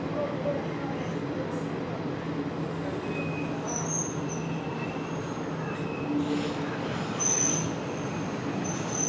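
Inside an AC chair car of the 22953 Gujarat Superfast Express running between Vadodara and Ahmedabad: a steady, close rumble of the moving train with high wheel squeals and faint voices in the background.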